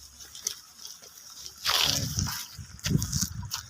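Hot geothermal water bubbling and hissing with steam at the Geysir geothermal area in Iceland, a burst of gushing, sloshing noise swelling midway then churning and splashing close by, with faint drips before it.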